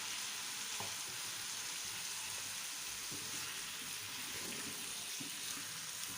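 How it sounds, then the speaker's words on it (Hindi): Potato slices fry in a pan with tomatoes, a steady, fairly quiet sizzle with a few faint utensil taps. "अब हम इसमें ये आलू की कतलियाँ डाल देंगे।"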